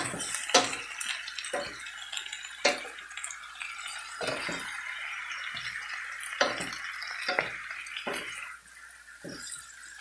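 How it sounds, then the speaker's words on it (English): Shrimp being stirred in tomato sauce in a pan for Salvadoran camarones entomatados, giving a run of close, irregular scraping clinks of a utensil against the pan with wet, saucy movement, no talking. "We're going to give it a quick stir here."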